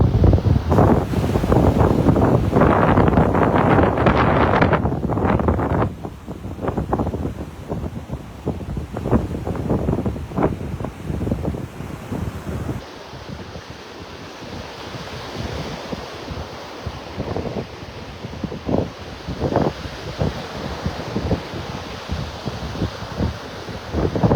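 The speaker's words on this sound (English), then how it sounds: "I'll be soaked with the waves" Ocean surf breaks and washes continuously on a beach at Delnor-Wiggins Pass State Park in Naples, with gusty wind buffeting the microphone, loud and roaring at first, then easing into steadier wash with intermittent gusts.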